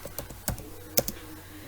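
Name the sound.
typing an SQL command on a computer keyboard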